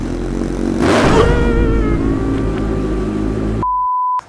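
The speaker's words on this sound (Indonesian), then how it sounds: "Coba kita lihat knalpot 25." A Kawasaki Ninja sport motorcycle fitted with an aftermarket 25 exhaust revs hard once near the start, then settles into a steady, loud idle close by, ending with a brief electronic beep tone.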